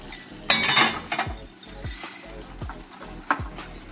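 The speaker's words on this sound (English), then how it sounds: "I'm going to take a little bit of it and mix it into the egg yolk and sugar mixture, stirring to take care that the eggs do not scramble" A utensil stirs hot cream into an egg yolk and sugar mixture in a bowl, making close, soft scraping swishes and a few light clinks against the bowl, with a short louder splash near the start.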